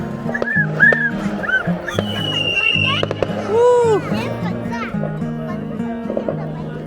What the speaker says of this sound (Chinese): 你看论才露营还有烟花看啊